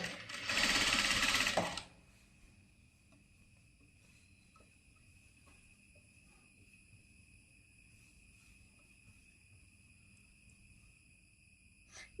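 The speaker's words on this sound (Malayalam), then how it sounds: "അപ്പൊ നമുക്ക് സ്റ്റിച്ച് ചെയ്ത് കൊടുക്കാം." A sewing machine stitching the slit V neck of a kurti runs in one short, loud, close burst, then stops, leaving a quiet room with a faint steady hum.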